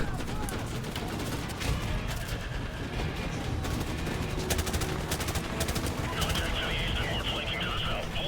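Continuous, loud automatic gunfire from Call of Duty: Modern Warfare Remastered, with dense rapid bursts and overlapping shots filling the whole stretch and a short high-pitched ringing effect near the end.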